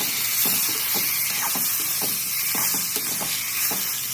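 Brinjal and potato frying in a pan, a steady close sizzle and hiss broken by repeated scraping and stirring taps at an irregular rhythm, no talk.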